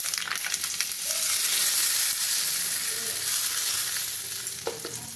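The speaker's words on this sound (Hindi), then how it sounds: "और हम इसमें ये राई डालेंगे। जिसकी आवाज़ आ रही है" Black mustard seeds crackle and sizzle in hot oil for a South Indian coconut chutney tempering, a steady close hiss of frying with scattered pops and no talking.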